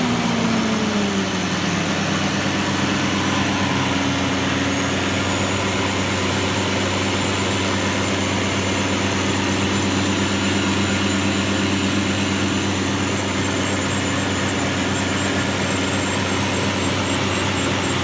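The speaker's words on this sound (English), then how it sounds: "That stumble, yes, you can hear the engine ingesting that." A large diesel truck engine runs loud and close during a DPF regeneration, a steady rumbling idle with an occasional slight stumble in its rhythm.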